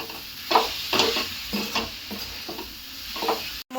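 Grated jaggery is stirred in a pan as it melts for modak filling, with about seven evenly spaced scraping strokes over a faint sizzle and a brief clatter near the end.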